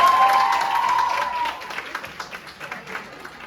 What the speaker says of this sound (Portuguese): eu vou pedir palmas só de mulheres